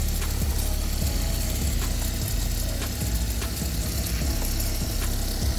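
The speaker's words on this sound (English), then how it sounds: "When we introduce a load, you can hear the motor slowing down due to the back EMF produced by the generator" A Tri-Force Extreme pulse motor driving a generator under load, with a loud continuous mechanical whir and rapid ratcheting clicks, the pulsing rhythm slowly dragging down, with no talking.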